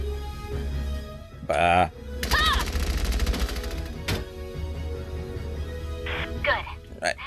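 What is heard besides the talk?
enemy gunfire in the video game Valkyria Chronicles 4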